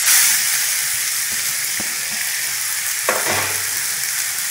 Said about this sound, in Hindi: कढ़ाई में हम घी डालेंगे। अब घिसे हुए लौकी को ऐड कर देंगे।